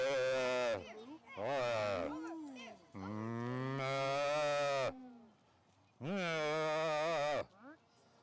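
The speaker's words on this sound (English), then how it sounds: "There we go. A talking cow." A cow lets out three long, loud, drawn-out moos close by, separated by short pauses, with faint background noise between them.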